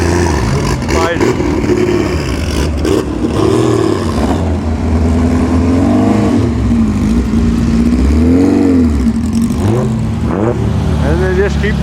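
Classic Porsche race cars, including an RS Spider and an Abarth, rolling in one after another, engines revving and droning close by in overlapping waves as a voice talks over the procession.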